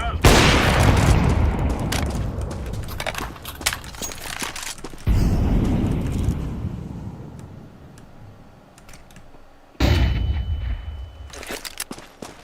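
Grenade blasts go off in a Counter-Strike match, with three loud booms that each decay slowly into rumble. Sharp gunfire pops and ticks fill the gaps, and faint talk runs underneath.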